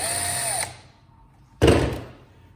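Power driver backing T20 Torx screws out of a Kirby Ultimate G vacuum cleaner: a short, close whirring burst that winds down, a pause, then a sharp clattering rattle of the screw or tool against the plastic housing.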